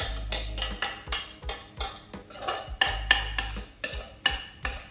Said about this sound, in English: Apologise for all the scraping noise.